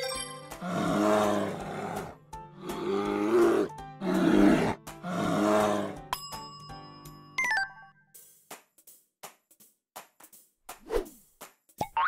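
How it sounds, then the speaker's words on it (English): A bear growls in a quiz of wild animal sounds, with four loud, rough growling roars in a row followed by quieter scattered knocks and clicks. "Bear."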